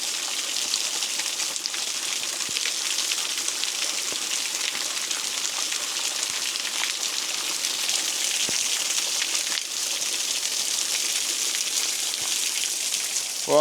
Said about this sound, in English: found a bit of a waterfall, which is pretty cool